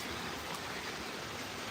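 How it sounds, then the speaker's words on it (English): Heavy rain pouring down outdoors, a steady dense hiss of falling water with no pauses, fairly close and loud, with no other sounds or voices. "If y'all hear all this rain, it's raining, y'all."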